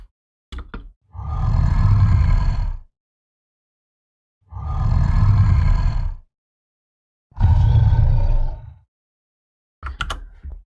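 Designed creature roar pushed through a bass amp for gritty gain: three long, heavy, growling roars of about two seconds each with silent gaps between, bracketed by short clicky grunts, close and loud.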